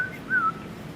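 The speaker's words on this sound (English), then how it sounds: "I have to whistle in as well." A person whistling while breathing in, giving a short, wavering, airy whistled tone that rises and falls near the mic, with a brief thin note before it in a quiet room.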